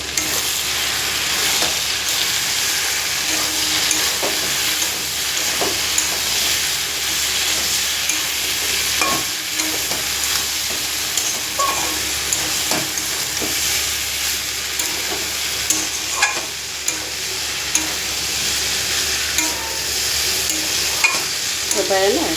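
Poppy seed paste with turmeric and chili powder frying in a pan, a steady soft sizzle and hiss with intermittent scraping taps of a spatula stirring, close and without talk.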